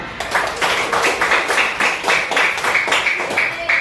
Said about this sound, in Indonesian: Tepuk tangan, sebentar.